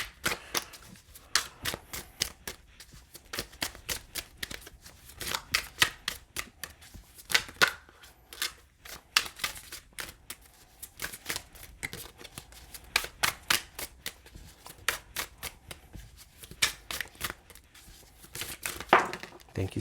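Tarot cards are shuffled in irregular bursts of riffling and soft slaps, close and fairly quiet, continuing on and off throughout.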